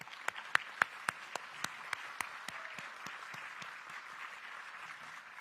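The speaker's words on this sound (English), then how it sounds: "Vivian Kong is here today with us and deserves a big round of applause from all of us." Faint, sparse applause at a sports law conference greets swimmer Vivian Kong of Hong Kong. A few sharp individual claps stand out over a soft, distant patter that continues for several seconds.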